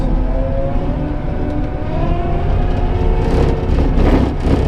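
Engine of a Cat 265 tracked skid steer revving and whirring steadily, loud and close, with a rising pitch and growing roar toward the end.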